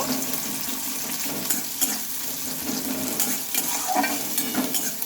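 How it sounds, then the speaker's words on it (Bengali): Chopped onions frying with cumin seeds in a pan, a steady dense sizzle with occasional scraping stirs, close and continuous with no talking. "এখন দিয়ে নেব আমি কেটানো পেঁয়াজ পেঁয়াজটাকে একটু ভেজে নেব"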